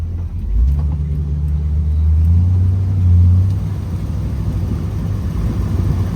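A 1961 Rambler convertible on the move, heard from inside as a deep, steady engine rumble that swells briefly as it accelerates, then settles into an even drone with road noise.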